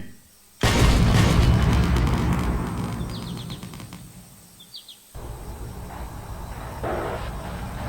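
A 106mm recoilless rifle fires in a Thai military roleplay video game. One sudden loud blast decays over several seconds, then a second, quieter thump follows, with faint bird calls in the background.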